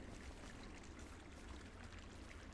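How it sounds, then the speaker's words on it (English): Water running through a small riverbed in a canyon in the video game Firewatch, a steady broadband pouring, trickling wash that stays fairly faint and continuous throughout with no voices. "Way you can hear the water in the little riverbed, the wind blowing over the canyon."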